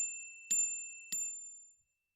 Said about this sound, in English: I'm going to chime my bell just to cleanse and clear.